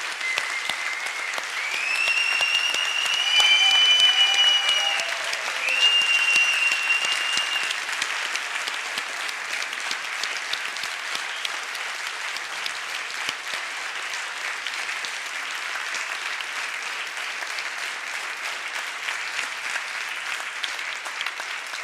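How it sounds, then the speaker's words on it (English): Sustained audience applause at a lawyers' association annual general assembly, a dense, even wash of clapping that swells briefly near the start, carries a few faint whistles, then holds steady throughout. "Please give them a big round of applause."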